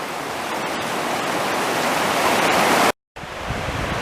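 Rose River in Shenandoah National Park running hard and fast past rocks, a loud broad rushing roar that holds steady, cuts out for a split second, then resumes just as strong.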